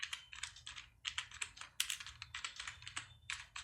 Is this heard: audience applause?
no